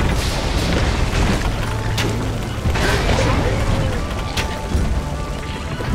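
A cannonball fires and explodes in the fantasy platform game Trine 2, heavy booms landing at intervals amid mechanical clatter and game sounds, with a voice talking over parts of it.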